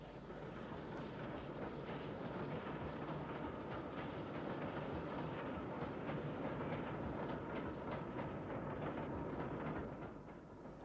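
Steam locomotive 34052 Lord Dowding hauls a train past Ashley Hill near Bristol. A continuous heavy rumble carries faint rhythmic wheel clacks, fairly distant and unbroken for about eleven seconds before easing slightly at the end.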